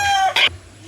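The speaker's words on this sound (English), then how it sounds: "we've always got fighting chickens" A short burst of agitated gamecock squawking and clucking in the Cebu mountains, Philippines, close and loud, with a harsher flapping scuffle in the middle before it quiets.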